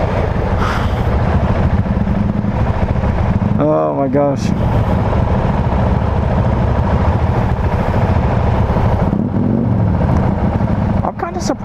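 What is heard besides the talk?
Husqvarna 701 Vitpilen motorcycle engine with Akrapovic exhaust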